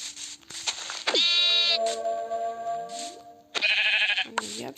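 Several sheep in a video game bleat loudly in wavering, drawn-out cries, one after another, close by, with a person talking briefly between them.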